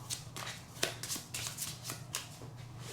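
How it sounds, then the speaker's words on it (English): Tiny Towns game cards are shuffled by hand close up, a quick rhythmic series of crisp riffling bursts repeating several times, quiet and alone. "Give it one more good shuffle"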